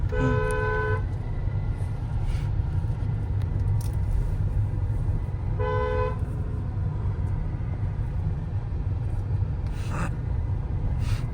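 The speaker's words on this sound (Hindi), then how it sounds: "लॉन्ग हॉर्न प्रेस करो।" A Hyundai i20 horn sounds in two sustained honks, the first about a second long and a later one similar, over a steady low engine and road rumble.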